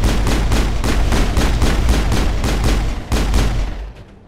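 Rapid gunfire from the Mass Effect video game: a loud, rhythmic run of about a dozen evenly spaced shots, then fading out at the end.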